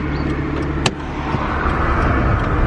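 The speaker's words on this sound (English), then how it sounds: "Oh, the car is slowing down." A car slows down, its engine and road noise rumbling steadily from inside the vehicle, with a brief sharp click partway through and no talking.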